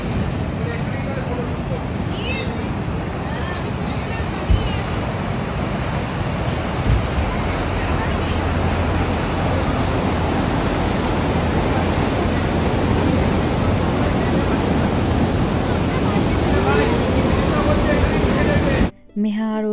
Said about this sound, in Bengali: একবার সমুদ্রের আওয়াজটা তো শোনানো হলো না,